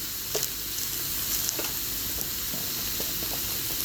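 Pak choy stir-fried quickly in a hot pan, giving a steady, close sizzle and hiss with a few faint scrapes and clinks of the spatula, no voices.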